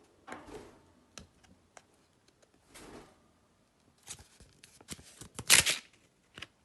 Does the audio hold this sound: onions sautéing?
no